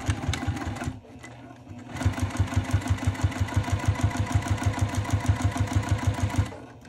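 Domestic sewing machine tacking a clutch wallet's lining to its exterior an eighth inch from the edge, a short burst followed by a pause, then a steady fast rhythmic stitching run, close and clear.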